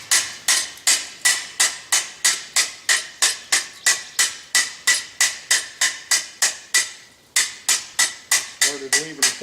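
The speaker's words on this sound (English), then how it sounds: "And right there is where I need that hammer." A hammer forges a hot steel sign bracket on an anvil, striking close and loud in a steady rhythm of about three blows per second, with a short pause near the end before the blows resume.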